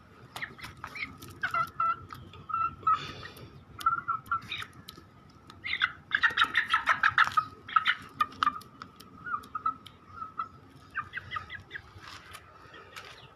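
Aseel chickens cluck and murmur close by in irregular bursts, with a busier stretch of louder clucking in the middle and quieter calls before and after.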